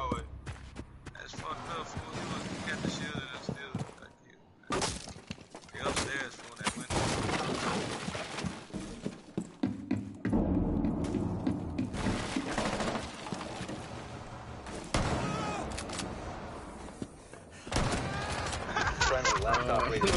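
Pistol gunfire and other combat noise from the video game Rainbow Six Siege come in bursts of sharp shots. Players talk loudly over the top throughout.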